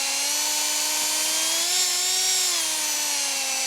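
A power drill bores a tap hole about 2 inches into a hardwood maple tree for sugaring, giving a steady, loud high-pitched whine with a slight pitch dip and rise midway, running alone without talk.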